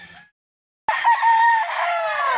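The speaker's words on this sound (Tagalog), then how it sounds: "ito guys, yung manok niya" A loud gamefowl rooster crow rings out close by after a brief snatch of faint sound and a moment of silence, one long sustained call.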